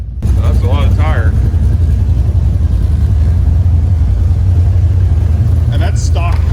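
A car doing a tire burnout inside a warehouse, a loud, steady low engine roar and rumble filling the space, with people shouting briefly at the start and end.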